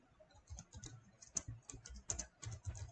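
Typing on a computer keyboard while filling in a financial aid application form online, a steady run of quiet, irregular key clicks with a few sharper taps, heard alone.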